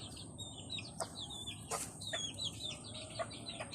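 Chickens cluck and chirp close by in a yard, a busy run of short calls over low background noise, with no talking.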